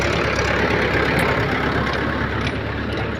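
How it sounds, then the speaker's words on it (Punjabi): A tractor fitted with a scraper blade pushing soil onto a river embankment, a loud, close, continuous engine roar with no talk. "ਜਿਵੇਂ ਉਹ ਟਰੈਕਟਰ ਕਰਾਹੇ ਵਾਲਾ ਮਿੱਟੀ ਲਾਈ ਜਾਂਦਾ ਬੰਨ ਤੇ"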